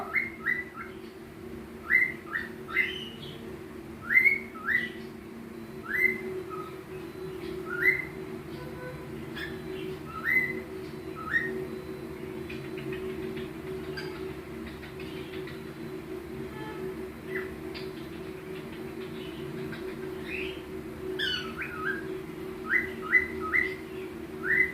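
A pet bird makes many short, sharp whistles and chirps, sometimes in quick clusters, over about twenty-five seconds. The bird imitates sounds learned from a phone. A steady low hum runs underneath, and the calls have quiet gaps between bursts.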